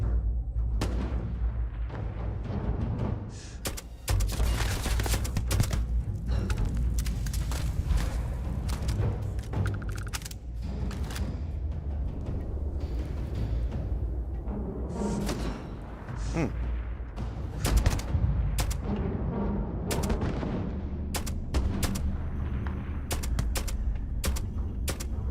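Repeated gunfire bursts from an enemy blind-firing from cover in the space RPG Starfield, rapid cracks and booms continuing steadily through a dense, busy battle mix with occasional voices.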